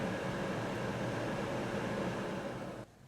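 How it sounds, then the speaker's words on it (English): Truck cabin AC blower fan runs with a steady broadband whoosh and low hum, constant and close, then cuts off abruptly near the end. "fan's working."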